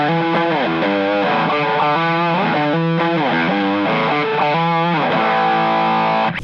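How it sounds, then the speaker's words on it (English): Heavily distorted electric guitar through a Valeton GP-200 plays a riff of sustained, gritty chords, loud and upfront, with no voices. "Can use the clean sound and add some distortion."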